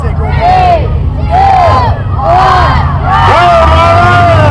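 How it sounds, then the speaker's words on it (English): A fairground crowd at the start of a demolition derby cheers and yells in loud waves, several rising whoops and shouts with an engine rumble beneath. "The crowd's ready."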